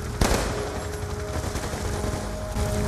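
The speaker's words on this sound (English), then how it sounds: "That was a pretty loud gunshot." Loud, rapid bursts of gunfire ring out in the sewer level of the video game Call of Duty: Black Ops II, with a sharp crack early on and a sustained rattle afterward.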